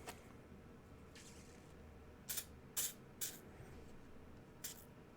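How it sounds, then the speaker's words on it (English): Several short, sharp hissing sprays from a spray bottle, spaced unevenly over quiet background, each a quick burst. "take your little cleaner, give it a spray."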